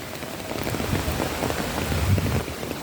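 Heavy monsoon rain pounds down steadily on surfaces and standing water, a dense continuous hiss with thicker low spatters rising and falling, close and loud, with no voices over it.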